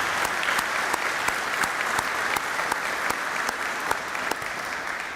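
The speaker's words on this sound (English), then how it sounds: "I'd like to give you a round of applause for filling in the void" A crowd at a US Army Africa change-of-responsibility ceremony gives a sustained round of applause. The dense, even clapping holds at a constant level throughout, with sharp individual claps popping out and no talking over it.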